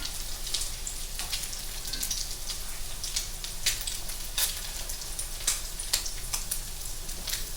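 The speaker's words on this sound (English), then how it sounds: "Just give them a little flip there. My grease is really hot." Catfish patties frying in very hot grease give a constant dense sizzle with scattered crackles and pops, close and steady throughout, with no talking.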